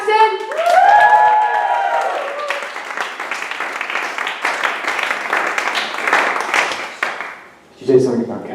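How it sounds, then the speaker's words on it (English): A stand-up comedy crowd at an Edinburgh show claps, whoops and cheers loudly for the evening's final act, steady applause filling several seconds before it fades and a voice speaks over it. "can you please clap, whoop and cheer for our final act of the evening?"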